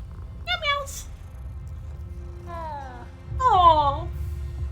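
A cat in Hogwarts Legacy gives two rising-and-falling meows, one near the start and a longer, louder one toward the end, over a low steady game background hum.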